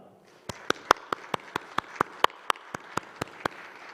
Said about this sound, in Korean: 마음 다해서 우리 박수해 주시면 감사하겠습니다